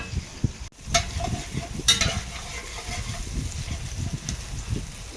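Onion frying in a pan for a homemade apple, potato and pork casserole, a steady close sizzle with scattered crackles and a few louder stirring scrapes, no talk.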